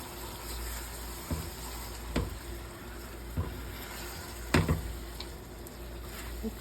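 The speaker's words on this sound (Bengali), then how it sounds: "এই চিংড়িগুলো দিয়ে দিই দিয়ে মশলা চিংড়ি একসাথে এটাকে আমি ভুনে নিই কিছুক্ষণ" Shrimp fry with spices in a pan, a soft continuous sizzle with a few sharp clicks and taps of stirring, quiet and close.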